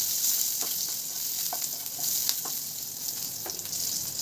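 Green chillies sizzle in hot oil in a pan with cumin and asafoetida, a steady bright crackle with a few sharp pops and spatters scattered throughout.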